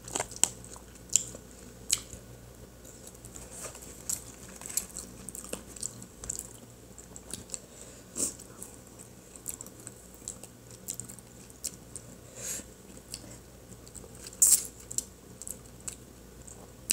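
Spicy crab legs are eaten up close, with scattered cracks of shell and soft wet chewing, some sharper crunches standing out from a quiet background over a long stretch.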